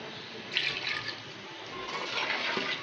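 Water pours steadily into a cooking pot for an aloo pakora potato curry, a continuous close splashing hiss lasting about three seconds with no voices.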